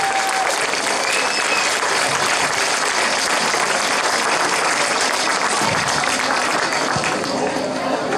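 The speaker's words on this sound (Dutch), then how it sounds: "geef deze mensen een daverend applaus voor de organisatie." Thunderous crowd applause during a village festival week thanking the organisers, a loud sustained roar of clapping with cheering voices mixed in that runs unbroken from start to finish.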